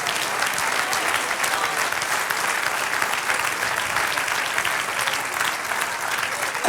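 Congregation applauding inside a church during a sermon, a sustained, even burst of many hands clapping at steady loudness from start to finish, with no speech over it.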